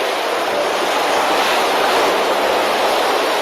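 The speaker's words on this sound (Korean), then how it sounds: "바다와 민물이 만나는 동해안 대종천 파도." Waves breaking where the sea meets the Daejongcheon river on Korea's east coast, a loud, continuous broadband roar of surf with no distinct breaks, steady throughout, no voices.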